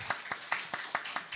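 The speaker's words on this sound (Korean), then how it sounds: "함께 우리가 좀 박수로 이 아이들을 좀 축복했으면 좋겠습니다" Congregation at a special dawn prayer service clapping to bless children: quiet, evenly spaced claps in a quick regular rhythm, about seven in a short burst.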